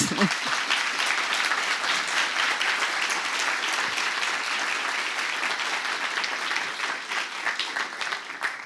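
Audience applause fills a journalism association's award and tribute ceremony, a dense, steady clapping from a large crowd that holds at full strength throughout without voices on top.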